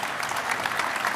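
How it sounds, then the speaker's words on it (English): Conference audience applause rings out as a French health official is welcomed onto the stage, a steady, dense patter of many hands filling the room without pause. "A warm round of applause representing France."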